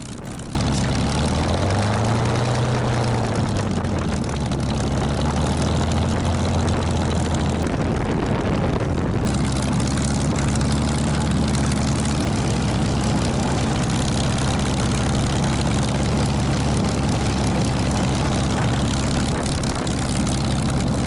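Spitfire and Corsair warbird propeller engines rumble loud and close as the planes taxi, a steady heavy drone throughout with a rising and falling tone in the first seconds.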